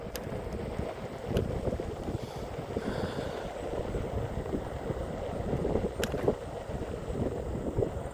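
Steady wind roars and buffets the microphone while someone rides a Hiboy S2 Pro electric scooter outdoors, a continuous low rumble with no clear talk.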